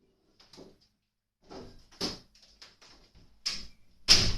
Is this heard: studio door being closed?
yes